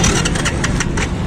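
A motorcycle engine runs loudly close by, a rough steady idle with small rhythmic pulses and no speech over it.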